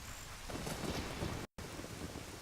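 Steady rain and rolling thunder from Ocarina of Time, a dense continuous wash broken by one abrupt moment of silence midway.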